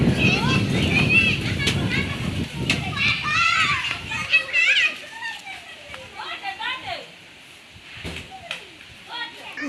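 Children play and shout in a home courtyard on a windy day, their high voices and squeals filling the space nearby, busy at first, then thinning into scattered calls and short bursts.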